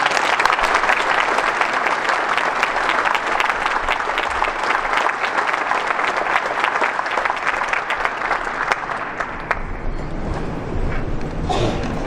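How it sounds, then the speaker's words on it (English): A large audience gives a long, loud round of applause to thank Ontario Premier Kathleen Wynne at a business conference, the clapping dense and steady before gradually thinning toward the end. "please join me in a big round of applause"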